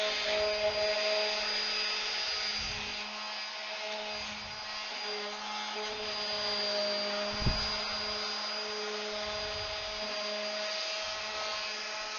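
A power sander works a coffee nook cabinet with a steady, droning whine that holds its pitch throughout, fairly loud and continuous, with a faint low thump partway through.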